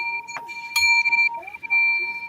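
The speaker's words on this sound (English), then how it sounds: "I'm going to ring the bell for everybody here" A bell rung for a group during an online writing session, with sustained ringing tones and a couple of sharp strikes near the start, heard close and moderately loud over faint background noise.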